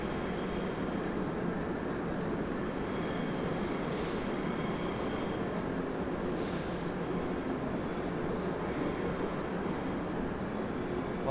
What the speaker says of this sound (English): here's a New Jersey Transit train and also Amtrak. The Amtrak is on both tracks